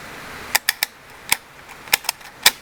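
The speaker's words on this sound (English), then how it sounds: "But we're going to go ahead and stripper clip these in." Rifle rounds pressed from a stripper clip into a 20-round magazine with a strong new spring: a series of sharp, dry metallic clicks, about eight, spaced irregularly and heard up close.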